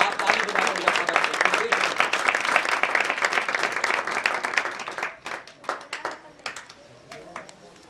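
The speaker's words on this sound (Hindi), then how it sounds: "आप ताली बजाकर इनका स्वागत करें।" An audience at a devotional religious gathering claps in welcome, a dense sustained round of applause that breaks into scattered individual claps before dying away.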